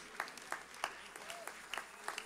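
Sparse, quiet claps from a church congregation during a pastor's address, a handful of separate hand strikes spread across a couple of seconds with faint background room noise.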